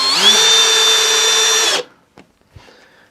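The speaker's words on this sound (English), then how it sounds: "Sometimes I'm drilling things and I don't pay much attention to it." A power drill whines loudly at a steady speed for nearly two seconds driving screws into wood, then stops, followed by a few faint clicks and knocks.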